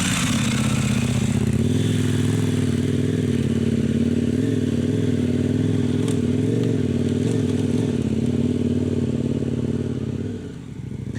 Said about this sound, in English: Alastair on his KTM 1090.